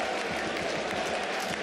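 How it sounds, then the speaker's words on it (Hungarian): Crowd at a Diósgyőr vs Pápa football match applauding, a steady dense patter of clapping across the stands, moderately loud with faint commentary under it. "Ezt tényleg meg lehet tapsolni."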